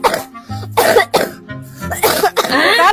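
A child coughs repeatedly after eating ice cream, a quick run of harsh, close coughs with throat clearing in between.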